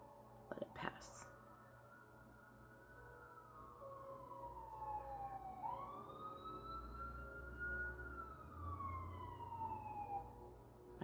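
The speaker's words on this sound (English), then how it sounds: "And that siren's getting louder. Hold on, I'm gonna let it pass." A wailing siren passes at a distance, its pitch sweeping down and back up, with faint background rumble and a brief knock at the start.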